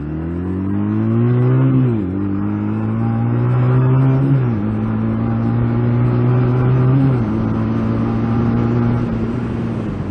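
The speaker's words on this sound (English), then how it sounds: "for a quite large 125 actually, the acceleration on this thing is good" Large 125cc motorbike accelerating hard, its engine note climbing steadily through three gears with a drop at each shift, loud and close with wind noise.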